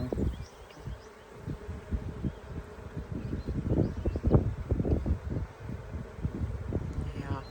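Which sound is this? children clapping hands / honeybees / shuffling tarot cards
honeybees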